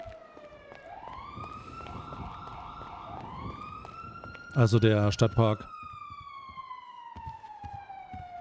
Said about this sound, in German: Warum habe ich denn die ganze Zeit eine Sirene am Laufen?